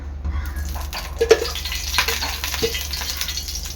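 Hot oil on a griddle (tava) sizzling and crackling softly as fish fry begins, with a few stirring clatters and pops over a low steady hiss, close by.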